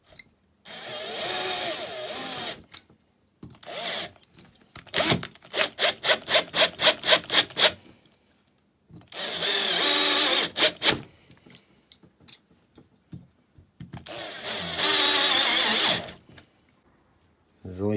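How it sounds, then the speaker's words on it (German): Four screws being fastened by hand on a Stihl MS 180 C chainsaw engine during reassembly, heard as a quick run of rhythmic ratcheting clicks and scraping in the middle, alternating with stretches of someone talking. "dann können wir den jetzt mit den vier Schrauben befestigen"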